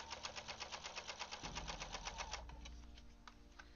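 A sewing machine stitches through a Seahawks quilt, a fast even needle rhythm for about a second and a half before slowing into a lower, smoother motor whir that fades, close and alone.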